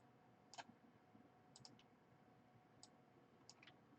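Several light key presses on a computer keyboard, repeated taps of the G key during 3D modeling work in Maya, sparse and quiet with short clicks spaced through a near-silent room, ending in a sharper click.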